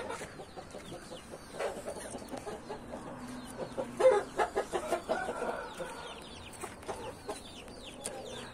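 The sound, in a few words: chickens clucking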